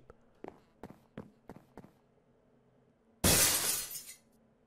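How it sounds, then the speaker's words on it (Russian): Glass bottle shatters in the Minecraft video game, a single loud crash with a trailing tinkle, preceded by a run of soft, evenly spaced footsteps. "Разбитая бутылка."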